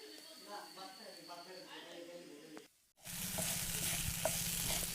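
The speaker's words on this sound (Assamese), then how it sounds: "অলপ পিছত অকমান হালধি দি ভালদৰে ভাজি ললোঁ" Pork frying with turmeric in a pan: a voice talks first, then after a brief pause a loud, dense sizzle with an underlying buzz fills the rest of the clip as it is stirred.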